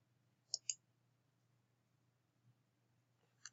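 A computer mouse gives a few sharp, faint clicks: a quick double click, then a softer tap and a single click near the end, over a quiet low hum.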